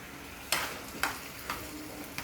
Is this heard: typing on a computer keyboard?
no